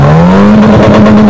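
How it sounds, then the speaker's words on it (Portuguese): A Chevrolet Astra engine, heard at a car club meet in Jundiaí, roars very loud and close, its pitch climbing steadily, then holding and stuttering against the rev limiter. "Nunca vi Astra cortar de giro?"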